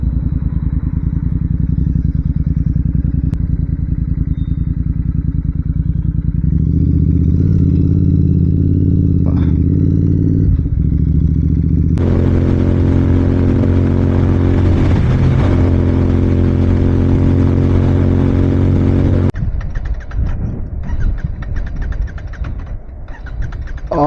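A Royal Enfield Interceptor 650 twin-cylinder motorcycle is ridden on the road, its engine loud and close throughout, shifting pitch with gear changes and throttle, then faltering and sputtering near the end.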